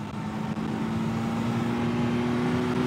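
A car engine hums at a steady low pitch with a constant droning tone, close and continuous, with no talking.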